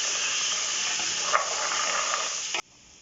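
A loud, steady hiss of food sizzling in a hot pan while making pea and ham soup, with a few small crackles, stopping abruptly near the end.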